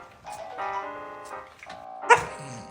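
Two big dogs making short barks and whining yips close by, with a sharper loud bark near the end, no talking over them.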